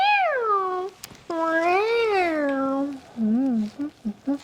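A human voice imitates a cat with a long, drawn-out sung meow, then a second rising and falling one, followed by several short clipped meows, loud and close.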